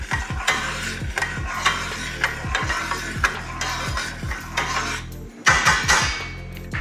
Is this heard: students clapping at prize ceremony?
no